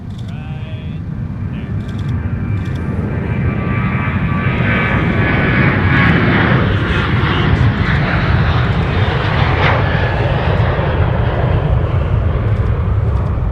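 An airplane roars past at Minneapolis–Saint Paul airport, its engine noise swelling from a moderate rumble into a loud, sustained broadband roar that stays strong to the end.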